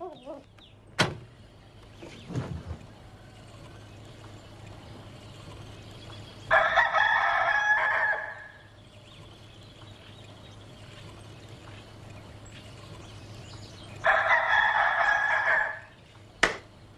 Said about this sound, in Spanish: Nunca escuché un quiquiriquí más lindo, Napoleón.